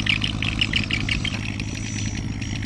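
A small boat's engine chugs on the Mekong River with a steady, clattering idle-like rhythm and a low mechanical hum, close and continuous throughout.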